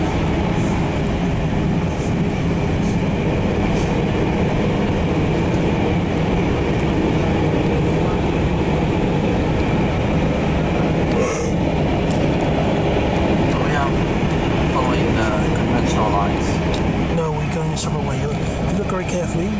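A passenger train hauled by a locomotive rolls along in the Netherlands, a steady loud rumble with faint clicking from the rails, heard from inside the carriage while people talk.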